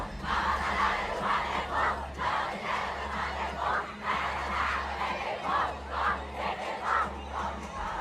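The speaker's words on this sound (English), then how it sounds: "people were literally being louder than the movie itself" Fans in a packed cinema scream and shout continuously, a dense, loud crowd roar with rhythmic chanting swells, drowning out a low movie soundtrack rumble underneath.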